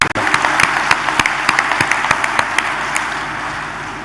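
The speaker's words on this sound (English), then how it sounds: "I think they deserve a huge round of applause for that." Audience applause at the inauguration of a Safran aircraft engines MRO facility in Shamshabad, Hyderabad: a dense, steady wash of many hands clapping, with a few louder nearby claps standing out, continuing without talk.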